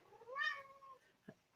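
A pet cat gives one clear, drawn-out meow that rises and falls, close and moderately loud, followed by a short low thump.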